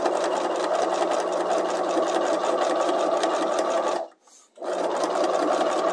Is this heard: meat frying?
no